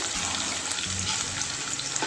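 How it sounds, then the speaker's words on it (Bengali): Onions and garlic sizzle and crackle in hot oil in a pan, a continuous bright frying hiss with no talking. "এটা একটু ভাজা ভাজা হতে থাকুক।"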